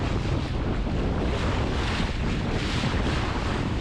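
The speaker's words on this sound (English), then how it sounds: "The waves are really big." Big, wind-whipped waves wash on a lake during sailing, with a strong, steady roar of surf and wind buffeting the microphone throughout, loud and continuous with no voices.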